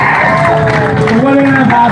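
Audience at a Christmas music performance applauding and cheering loudly, a dense wash of claps with whoops and voices rising over it, continuous and close.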